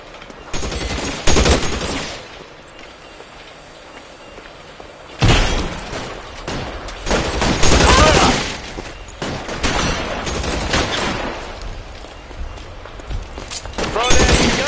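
Heavy bursts of gunfire in a shootout in the video game L.A. Noire, loud and dense, with rapid volleys and a fresh surge of shots midway, mixed with game voices shouting.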